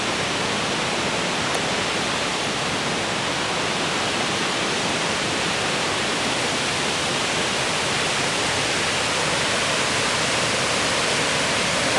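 Roar of the Canadian Falls at Niagara Falls, a dense continuous wash of rushing water, loud, steady and unbroken for the whole stretch, with no voices on top.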